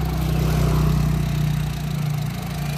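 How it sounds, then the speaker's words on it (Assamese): A Honda WR-V with a rebuilt engine idles steadily just after starting, a close, even low hum with a constant throb and no voices over it. "গাড়ীখন ষ্টাৰ্ট দিছোঁ গাইজ"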